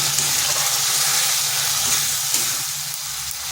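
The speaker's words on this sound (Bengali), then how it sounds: "এই মশলার সাথে বেশ কিছুক্ষণ কষে নিচ্ছি।" Red lentils sizzle loudly with spices in a hot pan, a steady, close frying hiss that stays even throughout with no talking.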